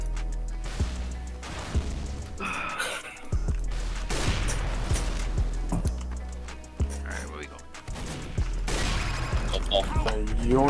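Rapid gunfire bursts and weapon blasts in Team Fortress 2 come in loud clusters with short gaps, mixed with game effects and someone talking over the action.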